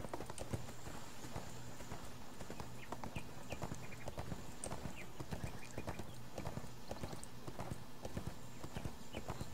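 Donkey hooves clip-clop in quick, steady strides while ridden in the ArcheAge MMO, loud and close over game ambience, with an occasional whinny-like call.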